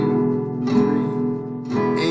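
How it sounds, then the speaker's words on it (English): Acoustic guitar chords strummed downward with fingernails, a couple of bright full strums each ringing out, close and clear with no talking. "So you strum down with your fingernails like this, and that sounds like this."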